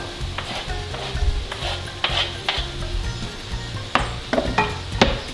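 Sliced onion sizzles after going into a hot pan for butter chicken, with a persistent fry hiss under repeated utensil clinks and stirring scrapes, close and fairly loud.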